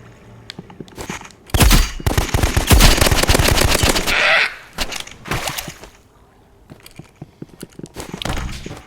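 Handgun fire in the Roblox shooter Rivals, heard as rapid bursts of sharp close shots that cluster densely for a few seconds, then a pause and a few scattered shots, with some footstep-like thumps between.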